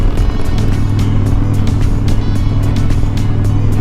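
A 2012 Harley-Davidson Super Glide Custom with a 98-cubic-inch engine roars steadily while riding, with a loud, continuous low rumble mixed with wind rush and no breaks.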